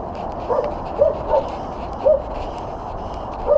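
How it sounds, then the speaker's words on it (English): Dog barks on duty at a chicken farm along a riverside lane, giving five or six spaced, moderately distant barks and yips over outdoor background noise. "here is a dog on duty"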